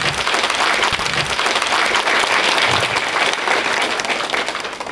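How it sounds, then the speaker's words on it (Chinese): A hall audience at a university lecture in Xi'an claps to welcome a speaker. The applause is loud and dense, holding steady for the whole span before easing slightly at the end. "下面我们以热烈的掌声欢迎索达吉堪布"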